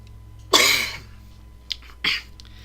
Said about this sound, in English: Excuse my cough